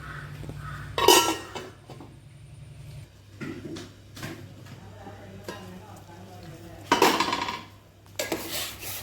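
Metal clatter of a lid being placed on a cooking pot sitting on a gas stove while jackfruit curry is made, with a few sharp clanks, crows cawing outside and a voice talking over it.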